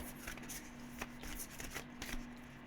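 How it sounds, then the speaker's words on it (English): Stiff tarot cards from a thick deck being shuffled close up, a steady papery riffling and flicking with a few sharper snaps, quiet and without speech. "Oh, such a difficult deck to shuffle."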